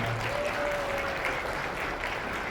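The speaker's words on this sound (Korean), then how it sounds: "다 같이 큰 박수 부탁드립니다" Guests in a wedding hall give a big round of applause before the ceremony begins, a dense, steady roar of many hands clapping at once, sustained for the whole stretch.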